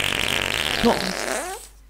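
A long, wavering fart drags on for nearly two seconds, shifting in pitch and ending in a rising, squeaky tail before it cuts off.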